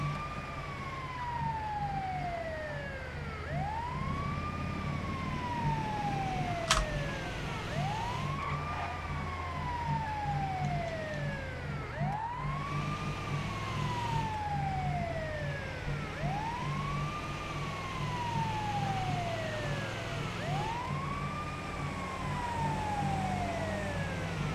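Emergency vehicle sirens wail in GTA FiveM during a random race, with an ambulance among a line of emergency vehicles. Several loud, overlapping rising-and-falling siren sweeps repeat steadily over engine rumble throughout.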